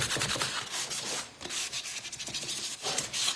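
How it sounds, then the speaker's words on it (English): Steady back-and-forth rasp of sandpaper cross-hatch sanding a wooden jewelry box, close and moderately quiet, with rhythmic strokes and a brief pause midway. "And then that's just gonna give better grip to my sandpaper."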